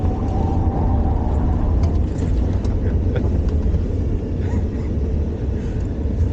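Ford F-150 Lightning electric pickup truck accelerating, heard from inside the cab: a steady, loud low rumble of road and tire noise throughout, with a faint higher whine riding on top.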